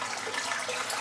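Tap water runs briefly into a shaving bowl, a soft, steady splashing trickle with no talk.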